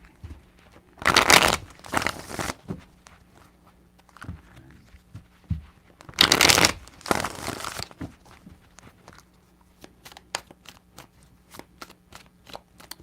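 Tarot cards are shuffled in two separate bursts, each a pair of loud, crisp riffles close by, with quiet handling rustles in between.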